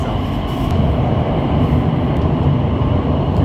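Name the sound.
Shenzhen Metro CRRC train running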